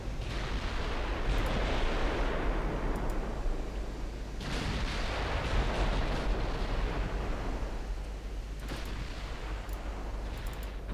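Naval guns in the Ultimate Admiral Dreadnoughts game fire armor-piercing shells at battleships, producing a continuous roar of dense, overlapping booms and rumbling blasts throughout, loud and steady with no voices.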